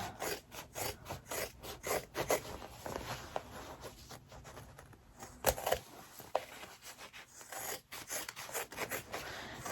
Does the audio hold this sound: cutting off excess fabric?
yes